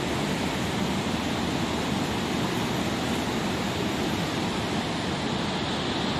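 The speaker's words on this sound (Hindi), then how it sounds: "पानी का प्रेशर देखा कितना ज्यादा" Rushing water flows hard and steady through a glacier-fed canal. The broad, unbroken roar stays close and loud throughout, with no voices over it.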